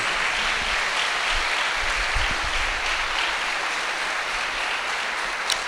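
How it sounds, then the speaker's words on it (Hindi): Steady, loud applause fills a church service after a sermon on the Book of Jonah, a dense wash of clapping from the congregation that holds evenly for several seconds without any voices over it. "इसके लिए जोरदार तालियां"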